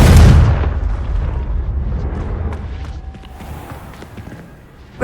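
Confringo blasting spell detonating in Hogwarts Legacy: one loud, close boom at the start that rolls off into a long rumbling decay, with faint debris and footsteps trailing after.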